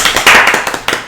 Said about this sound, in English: You guys didn't hear me clap it up?